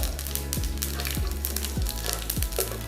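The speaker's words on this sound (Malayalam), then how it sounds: "കടുക് പൊട്ടി കഴിയുമ്പോൾ ഇതിലേക്ക് 1 ടീസ്പൂൺ പെരിഞ്ചീരകം കൂടെ നമുക്കിടാം" Mustard and fennel seeds sizzle in hot oil as the base for a beef chaps curry. A close, steady crackle runs throughout, with soft low thumps repeating at regular intervals.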